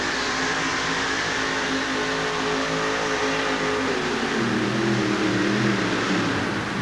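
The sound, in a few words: supercharged fuel-injected monster truck engine racing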